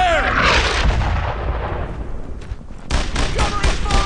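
Rapid bursts of gunfire and artillery thuds from the World War II shooter Brothers in Arms: Earned in Blood, a loud sustained barrage that dips briefly before a second run of sharp repeated shots, with shouted voices mixed in.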